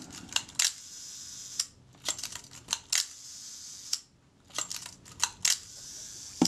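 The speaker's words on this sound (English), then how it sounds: "That shutter's working nicely." A Retina Reflex S camera under repair fires its shutter repeatedly, crisp mechanical clicks and snaps in irregular clusters, close and quiet, with small handling noises between releases and no talk.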